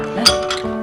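Glasses clink together in a toast, a single bright, close chink ringing briefly and then fading in a quiet room.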